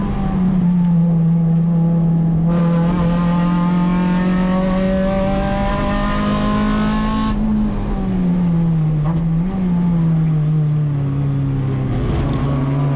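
Race car engine lapping Laguna Seca raceway in a USTCC touring car race, heard close from onboard as a loud, continuous drone whose pitch holds steady, then dips and climbs again through a corner onto the straight.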